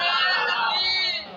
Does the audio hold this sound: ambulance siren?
no